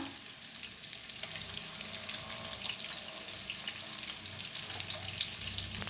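Eggs frying in a pan with turmeric and egg masala, giving a steady, bright sizzle that continues throughout with faint scraping of stirring underneath.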